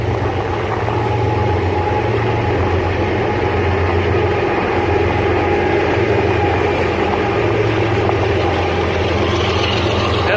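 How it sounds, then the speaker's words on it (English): Train going past at a distance, a steady loud low rumble of engine and rolling cars that holds without a break throughout, heard from outdoors beside the tracks. "Oh, the train is coming by."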